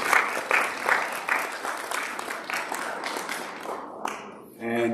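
A church congregation at a worship service claps in a loose, rhythmic burst that tapers off, followed by a brief clatter and a voice at the end.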